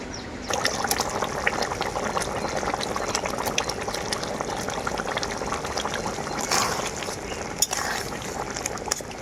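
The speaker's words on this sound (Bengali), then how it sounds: "ঝোলটা খুব ভালোভাবে ফুটে গেছে এখন আমি ভেজে রাখা মাছগুলো দিয়ে দেবো ঝোলের মধ্যে" Silver carp fish curry gravy boiling steadily in a pot, a continuous dense bubbling and simmering with occasional louder pops, close and alone with no talking.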